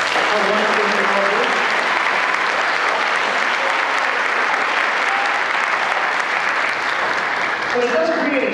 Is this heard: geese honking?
no